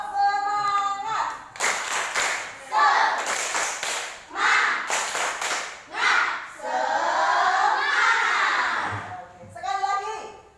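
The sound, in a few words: children doing a rhythmic spirit clap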